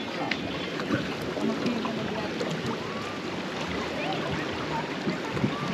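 Boats racing on the Dawki River in Meghalaya produce a steady wash of water and wind noise with small splashes, heard from on board, with voices talking faintly beneath.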